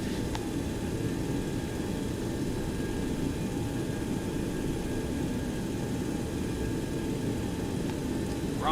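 A Boeing 727-200F freighter taxiing in the X-Plane 11 flight simulator, its engines giving a steady, even jet hum and rumble that holds constant throughout, with no talk over it.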